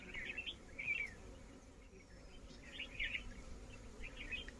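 Indian honey bees (Apis cerana indica) buzz at a large hive on a farm, a faint, steady hum with brief louder swells of buzzing and a few distant bird chirps.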